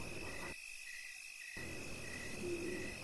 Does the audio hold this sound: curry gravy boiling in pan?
no